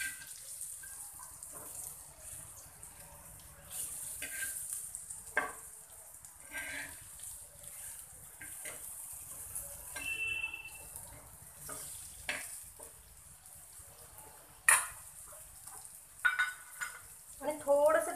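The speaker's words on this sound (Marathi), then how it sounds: "सगळे फिश मी उलटवून घेते।" Surmai fish steaks fry in hot oil in a pan, a soft crackling sizzle running throughout with intermittent scrapes and clatters as the pieces are flipped one by one, plus brief water-like splashes near the end.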